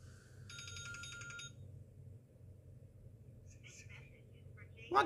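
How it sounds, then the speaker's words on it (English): A phone ringtone plays in short bursts of electronic tones, faint and somewhat distant, under a low background hum, with a brief sharp noise at the end. "It's my phone ringing"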